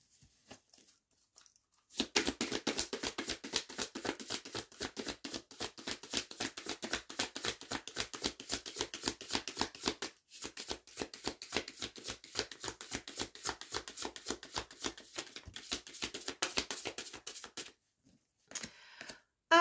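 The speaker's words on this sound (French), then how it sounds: "Je le brasse un petit peu, mélange un petit peu les cartes." A deck of cards is shuffled close up in long rapid riffling runs, a dense patter of quick flicks lasting most of the time, with one short pause midway and quiet at the start and end.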